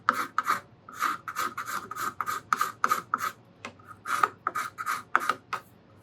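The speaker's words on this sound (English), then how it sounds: "I've got the scraper bent a little bit, so I'm only scraping this area" A slightly bent cabinet scraper rasps across a small wooden block for a steel-string guitar, in about a dozen short, close strokes with brief pauses between them.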